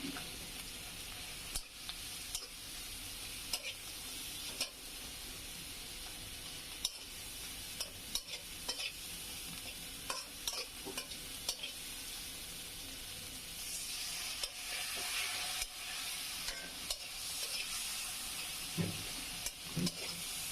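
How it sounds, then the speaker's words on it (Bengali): Prawns stir-fried in a pan for a Malabar spinach and prawn dish, a steady low sizzle with occasional scraping stir clicks throughout, fairly quiet and close. "আর চিংড়ি মাছটা কষানো হোক"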